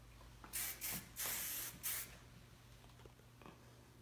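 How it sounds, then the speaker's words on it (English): Hairspray is sprayed onto a finished summer updo in four quick hissing bursts close to the mic, followed by faint small handling sounds in a quiet room. "And I'm just gonna finish it up with a little bit of hairspray."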